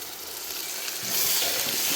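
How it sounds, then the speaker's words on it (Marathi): Masala paste sautés in hot oil in a pan, a loud close hiss that swells sharply halfway through the brief moment. "या मसाल्याला पण चांगलं परतून घेऊ"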